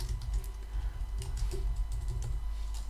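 Steady typing on a computer keyboard while writing code for an MS-DOS rotozoomer, a continuous run of close, light key clicks over a low hum, with no talking.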